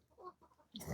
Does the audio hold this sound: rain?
no